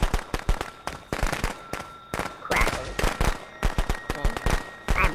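Rapid, uneven bursts of firecracker bangs crackle close by in quick clusters, loud and sharp, with a few whistling pops mixed in, in the video game Friday the 13th: The Game.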